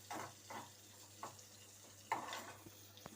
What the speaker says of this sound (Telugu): అదే ఉల్లిపాయ వేగాలి